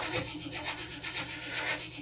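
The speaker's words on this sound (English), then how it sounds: "She ain't turning over very fast." The engine of an old 1957 delivery truck cranks over slowly without firing, a sluggish, rhythmic churning of the starter pulsing about four times a second, close by and fairly quiet.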